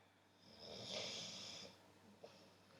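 Soft snoring from a person, one slow drawn-out rasping breath heard faint and close in a quiet room, followed by a small snort.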